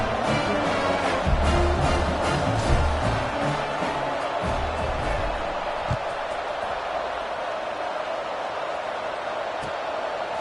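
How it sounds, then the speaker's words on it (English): A football stadium crowd buzzes after a score, a steady dense roar of many voices filling the whole stretch, louder early on and holding at a constant level throughout. "this crowd is buzzing after that last score"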